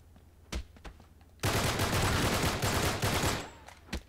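Gunfire in the Uncharted 3: Drake's Deception campaign: a few isolated shots, then a dense sustained burst of rapid automatic fire for about two seconds, tapering off before a final lone shot.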